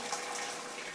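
Cooked potatoes and their hot water poured over a washed pan, a brief close watery gush and splash lasting under a second.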